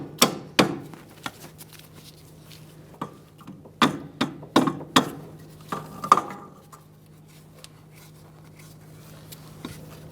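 A rubber mallet taps rear strut mount bolts out on a 2002-2006 Toyota Camry: a series of irregular, sharp knocks, some in quick clusters, close and fairly loud, with quiet gaps between them.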